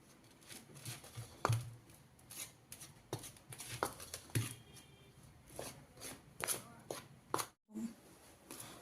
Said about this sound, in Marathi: मिक्स करून झाल्यानंतर आपण हे पीठ चांगलं मळून घेऊया.